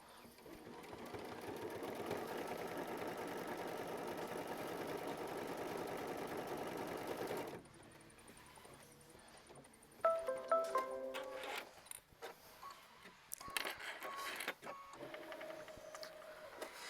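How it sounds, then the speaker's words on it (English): A sewing machine stitches fabric for a quilt block, a steady close mechanical whir for about seven seconds, then stops, followed by clicks and handling noises. "we're going to stitch, and that will be machine stitch step 15"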